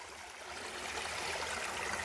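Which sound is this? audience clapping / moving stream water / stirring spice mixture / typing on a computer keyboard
moving stream water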